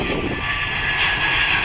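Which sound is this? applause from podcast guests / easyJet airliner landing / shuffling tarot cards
easyJet airliner landing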